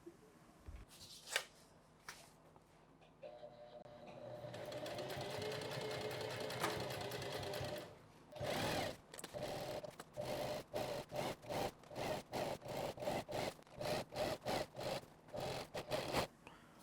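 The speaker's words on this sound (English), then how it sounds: "we'll head over to the sewing machine, and same as the other one, we'll add a 1/4 inch seam all the way down that edge" A sewing machine stitches a 1/4 inch seam on a duffel bag. Handling and fabric rustle come first, then a steady machine whir, then a rapid series of short stitching bursts, close and quiet.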